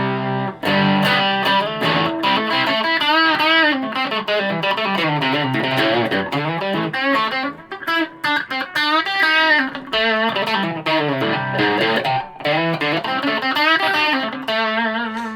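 A heavily distorted electric guitar, an SG with faulty wiring played through an MXR FOD distortion pedal, plays a continuous melodic riff, thick and buzzing with sustained notes and quick runs, loud and alone.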